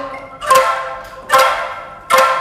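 Three sharp wooden clacks of an angklung-style bamboo instrument, its base tube jerked quickly against the palm in the sentak technique, evenly spaced and ringing briefly after each strike, close and fairly loud.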